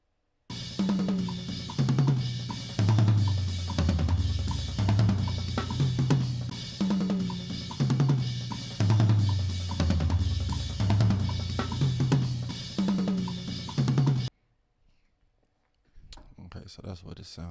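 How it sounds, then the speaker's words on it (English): Unequalized drum toms from a mixing session, played flat with no EQ in a steady rhythmic pattern of repeated hits descending through the toms for about fourteen seconds, loud and alone, then silence and a brief voice. "let's hear what all the toms sound like with no"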